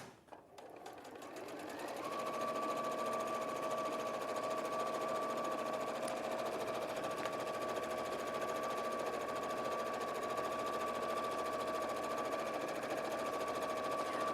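Sewing machine stitching fabric, pivoting around a corner, a steady, fast mechanical whirr that builds up over the first two seconds and then runs continuously and fairly quietly.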